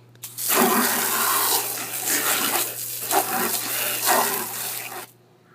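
A garden hose nozzle on its jet setting blasts water outdoors against a building and wet ground, a strong continuous hiss and splatter lasting several seconds before cutting off abruptly.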